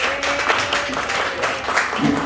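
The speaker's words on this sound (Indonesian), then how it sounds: "kita boleh tepuk tangan buat dia ya" An audience claps for a business partner during a presentation, a moderately loud, continuous patter of hands with some overlapping noise.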